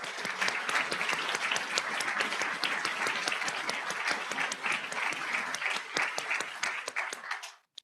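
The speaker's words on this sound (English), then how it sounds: "please stand so we can applaud you" Loud, sustained clapping fills a convocation hall as the crowd applauds standing retirees, steady and dense for several seconds before dying away abruptly at the close.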